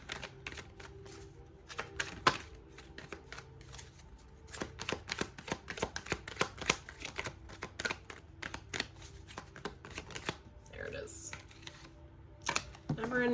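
Tarot cards shuffled by hand, making a steady patter of quick, close riffling and slapping clicks that continues for many seconds, with a brief flurry of faster card noise near the end.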